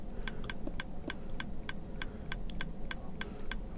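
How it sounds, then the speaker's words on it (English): Constant rapid clicking in a Minecraft Enderman farm, sharp regular ticks repeating about four times a second over a steady low game hum, with no talking. "Now notice we have constant clicking."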